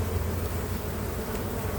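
Honeybees buzz steadily at a hive entrance where a swarm may have been caught. A dense, continuous drone holds close and loud for the whole moment, with no voices.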